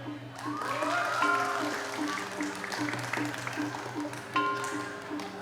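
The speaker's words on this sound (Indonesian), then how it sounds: "Tepuk tangan semua." Audience applause at a Balinese drama gong performance, moderate and continuous, mixed with sustained tonal gamelan notes and a few voices.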